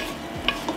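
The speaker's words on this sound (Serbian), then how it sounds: "Sve ću ovo sada promešati i tako propržite sav patličan." A short stir of eggplant frying in a pan, with a couple of brief scraping clicks over a soft, steady sizzle.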